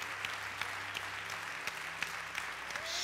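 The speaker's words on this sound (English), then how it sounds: "Keep clapping, church." Church congregation applauding in a large building, a soft, continuous patter of many hands heard from a distance with a few sharper claps standing out, no talk over it.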